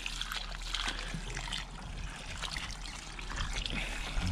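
Water from a hose trickles and splashes steadily onto a garden bed at a dacha, a continuous close hiss and patter running throughout with no talk.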